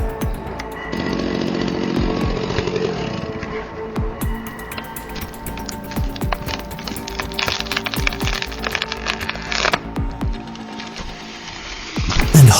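A big chainsaw cuts into a tree, its engine buzzing loud and close with the revs rising and falling as it bites. Breaks, knocks and rustles come through between bursts of cutting.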